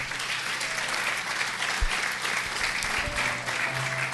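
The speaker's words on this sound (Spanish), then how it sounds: "Dan un aplauso al Señor." A church congregation applauds steadily for the full stretch, a dense, even wash of many hands clapping at moderate volume with no voices over it.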